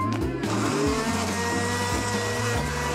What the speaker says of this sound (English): I'll put it in the blender